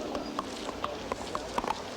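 Horse hooves clip-clop in a steady walking rhythm in a comedy film scene, sharp knocks spaced evenly and close by against a low background.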